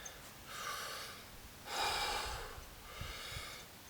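Shallow chest-breathing demonstration: three audible, airy breaths close to the microphone, quick inhales through the mouth with a slight snorting edge, separated by brief pauses in an otherwise quiet room.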